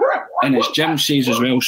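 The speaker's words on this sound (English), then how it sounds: "sorry, that's my dog's going on" A household dog barks repeatedly and loudly close by, three or four full barks running together with someone talking over them.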